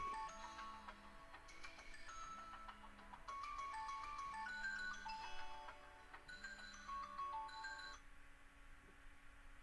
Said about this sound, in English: Phone doesn't even ring until you get busy doing something